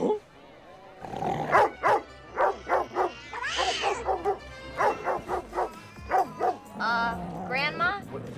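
Scooby-Doo barks in a movie scene, a rapid run of close, loud cartoonish barks and yips in quick rhythmic bursts, broken by a whining, wavering vocal.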